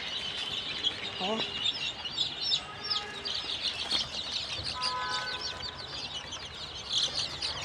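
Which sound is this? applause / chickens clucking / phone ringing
chickens clucking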